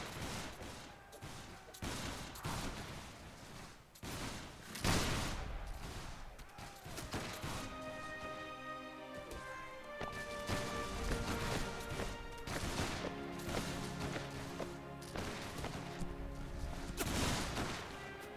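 Musket volleys crack out in Mount & Blade Warband, with repeated ragged bursts of massed gunfire and crashing impacts that come in waves, some loud and close, others more distant.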